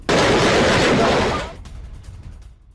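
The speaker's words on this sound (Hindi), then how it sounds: "धमाके की आवाज, तेज रोशनी से लाल हुआ आसमान।" A single loud, broad blast from a drone attack in the Russia-Ukraine war bursts out at once, holds for over a second, then fades into a rumbling tail and scattered crackle.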